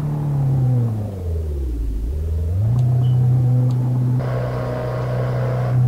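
Synthesized car engine sound model in software, a loud steady droning hum that dips in pitch, swells back up and holds, with a brighter layer joining late, alone without talk.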